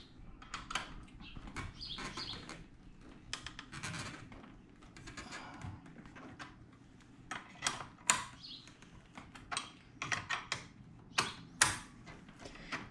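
A hand ratchet works on the 18 mm nut holding the seatbelt buckle to the stock seat frame of a C5 Corvette, giving quiet, irregular bursts of clicking that grow sharper and closer toward the end.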